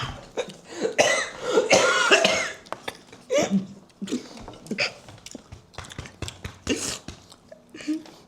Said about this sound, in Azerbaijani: Gülmədən öskürür.